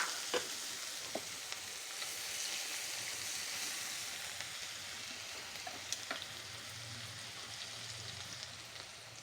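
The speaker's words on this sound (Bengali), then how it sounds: "এখন এর মধ্যে দিয়ে দিচ্ছি একটুখানি পেঁয়াজ।" Onion frying with four cloves in oil for a chingri malaikari, a soft, steady sizzle with scattered clicks and a few spatula taps, fairly quiet and close, with no speech.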